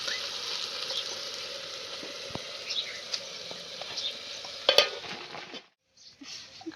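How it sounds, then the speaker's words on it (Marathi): Rice and masala with turmeric and salt sautéing in a pan, a steady soft sizzle with scraping stir strokes, close and alone, briefly dropping out near the end. "हळदी मिठात चांगलं परतून दिलं"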